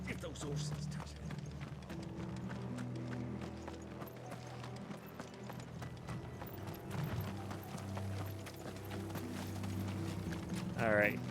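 Horses' hooves clip-clopping steadily in Final Fantasy XVI, a brisk rhythmic patter over a low game soundscape and music, with a brief voice near the end.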